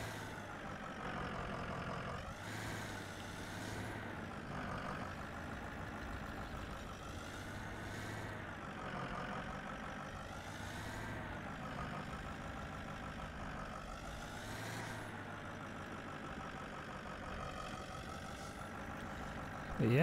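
A snow plow truck engine drones in the Snow Plow game as it climbs uphill, a faint, steady low rumble with periodic swells in pitch, running continuously under occasional quiet talk.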